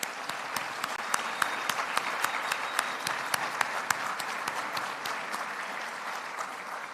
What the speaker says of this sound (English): A big hand of applause for them, please.